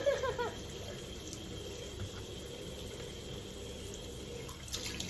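Water runs steadily from a tap into a sink during face washing, a soft continuous hiss heard alone at a moderate distance with no talking.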